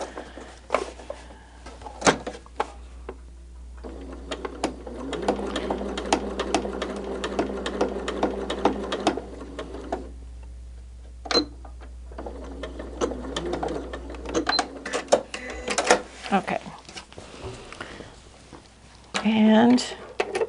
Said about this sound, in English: you want to make sure that you sew down that edge.